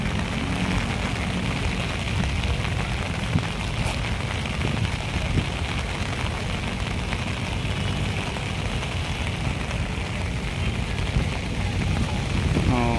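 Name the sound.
heavy rain getting stronger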